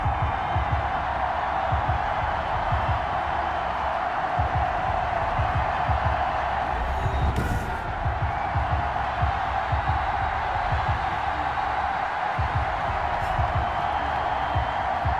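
Stadium crowd noise rolls on as a steady, loud roar for a Patriots versus Dolphins game in the Madden 21 video game, constant and unbroken from start to finish.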